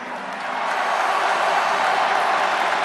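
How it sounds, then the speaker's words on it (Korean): A crowd applauding at a Korean presidential primary rally, broad steady clapping that swells and holds, fairly distant and without distinct voices. "안희정 동지에게 여러분 뜨거운 박수 보내주십시오"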